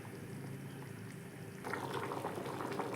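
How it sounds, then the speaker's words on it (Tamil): Rice simmers in a pot of water on the stove, a steady low bubbling hiss that grows busier and louder about halfway through as the boil picks up, with no voices. "சாப்பாடு நல்லா கொதிக்குதா?"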